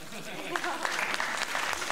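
Light clapping from a small group, a brief patter of applause mixed with talk and laughter.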